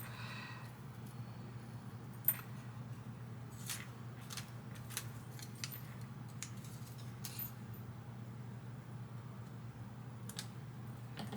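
Scissors snip paper for vintage photo pendants, a series of quiet, irregular cuts over a low steady room hum, close and soft with no talking.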